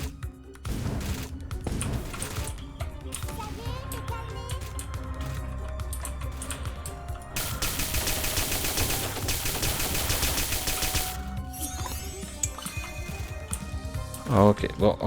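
Machine gun fire rattles in from all sides during a video game firefight, dense rapid bursts mixed with game effects and a sustained noisy stretch in the middle, with a loud burst at the end.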